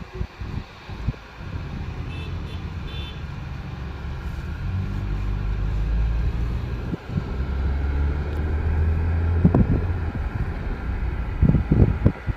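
A Mahindra Scorpio N petrol SUV with a four-cylinder engine drives on city roads and up a flyover, giving a steady low road rumble and wind noise inside the cabin. There is no talk, and a few soft knocks come near the end.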